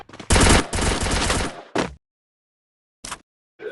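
Automatic gunfire in the Free Fire video game: a loud rapid burst of shots lasting over a second, then two brief isolated shots separated by silence.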